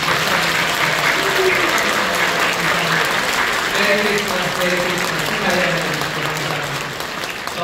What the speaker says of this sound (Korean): 우리 사랑하고 축복하는 마음으로 뜨겁게 박수 주세요